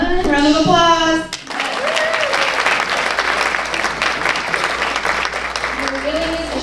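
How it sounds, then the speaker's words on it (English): Audience at a staff development conference applauding the breakout session presenters, with steady clapping after a short spoken line, and voices audible over it. "Round of applause."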